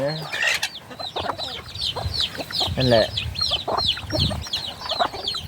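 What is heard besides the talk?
chickens clucking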